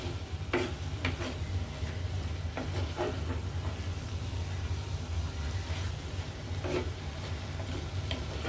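Bitter gourd and prawn curry stir-frying in oil, a steady soft sizzle with a low hum underneath and occasional spatula scrapes and clacks.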